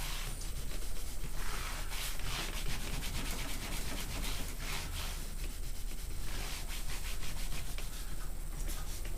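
A dry rag wiping over a freshly oiled Stratocaster guitar body during a refret and upgrade, a soft, continuous rubbing swish heard close up and on its own.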